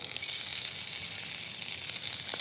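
Rabbit livers sear in a hot pan, a continuous bright sizzle and crackle at steady loudness with a few small pops near the end, no talking heard.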